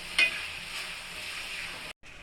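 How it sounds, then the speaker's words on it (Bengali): Ginger-garlic paste for egg curry is stirred and fried in a pan, producing a soft, continuous sizzle with a brief scrape near the start and a short dropout near the end. "এখন ভালোভাবে নেড়ে চেড়ে দিব। যেন আদা রসুনের গন্ধটা চলে যায়।"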